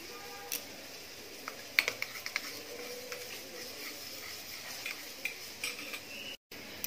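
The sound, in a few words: stirring flour into milk in a bowl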